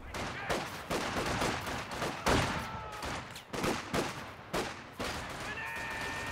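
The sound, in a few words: rifle grenade gunfire in a real-time strategy video game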